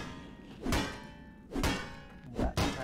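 A shovel strikes three times as a melee weapon in the video game Left 4 Dead 2, each hit a loud, heavy thunk with a sharp crack, spaced about a second apart.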